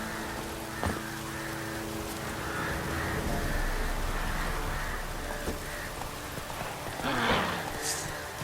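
Roach the horse trotting in The Witcher 3: steady, fairly quiet clip-clop hoofbeats over an ambient outdoor bed, with a crow cawing near the end.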